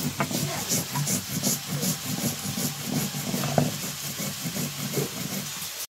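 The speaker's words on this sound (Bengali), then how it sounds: "শিলে সেই জন্য বেটে নিতে হবে" Soaked rice is ground into a wet paste on a stone grinding slab, giving a steady rhythm of rough rubbing and scraping strokes with a gritty hiss, close and moderately quiet.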